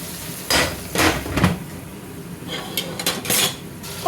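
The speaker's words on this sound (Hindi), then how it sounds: "टमाटर डाल के तो इसको मिक्स करके छोड़ देंगे" Chana rice being stirred with tomatoes in a pot, Pakistani style: a spoon repeatedly scrapes and clinks against the metal pot in irregular bursts, close and fairly loud, over a soft background hiss.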